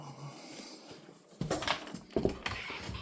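Dogs in a home kitchen waiting for eggs: brief soft whines and whimpers near at hand, mixed with clattering and jingling as food is prepared, growing busier in the second half.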